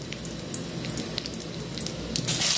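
Whole cumin seeds and green chilies frying in hot oil in a heated pan, a close crackling sizzle with scattered pops that swells louder at the end.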